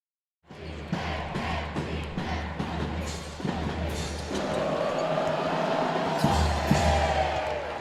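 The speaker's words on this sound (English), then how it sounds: "you can hear the Mustang fan base as they have filled in the crowd right here at the Pinnacle Bank Arena" A basketball fan crowd fills the Pinnacle Bank Arena before a boys' state high school game. Steady crowd murmur and cheering, with repeated basketball bounces and thuds up front and a voice speaking over it.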